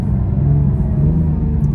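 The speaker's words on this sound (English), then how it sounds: "I love the way she downshifts." An Acura NSX engine revs through a downshift, a loud close low rumble with a steady droning tone from inside the car, brief and continuous.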